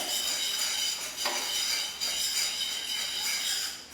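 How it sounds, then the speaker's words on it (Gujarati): A coconut penda mixture with strawberry being stirred in a pan, heard as faint repeated scraping and clinks of a spoon against metal in a quiet kitchen, with no voices. "એકરસ થઈ જાય ત્યાં સુધી મિક્સ કરવાનું છે."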